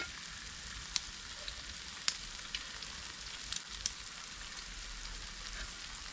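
Whole cloves, cinnamon and cardamom sizzle steadily in hot oil for a chicken curry, a soft constant crackle with a few sharp pops and spits standing out.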